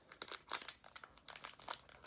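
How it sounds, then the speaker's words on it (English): A plastic baggie of bouncy-ball chemical mix is crinkled and torn open by hand, giving a quick run of crisp, close crackling bursts in quiet surroundings. "there's like a little place to open these bags on the side, which will allow you to tear it open"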